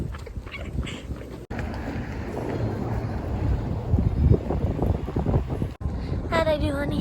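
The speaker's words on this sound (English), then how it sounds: "It's so windy." Strong wind buffets the microphone in a continuous rough roar, loud and close, with brief cutouts and faint voices in the background.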